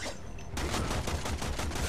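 Gunfire in the video game Warframe on PS4: after a brief quieter lead-in, a rapid, loud burst of repeated shots runs for over a second in an even rhythm.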